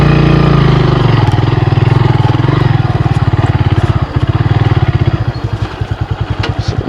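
An off-road motorcycle engine runs loud and close on a steep motocross trail, a steady throbbing drone whose revs rise and fall, with rapid firing pulses that grow choppier toward the end.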